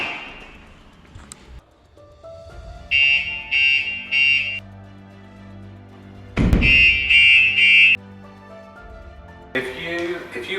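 StarLine S9 van alarm disarming as the key tag unlocks the van: two bursts of three-part high electronic chirps, each set preceded by a thunk, with quieter tones between.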